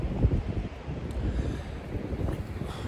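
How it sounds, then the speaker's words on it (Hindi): Cold wind gusts buffet the open air in a low, uneven rush, moderately loud and continuous with no voices, on a mountain trek near Chandra Taal lake. "और ठंडी ठंडी हवा चल रही है।"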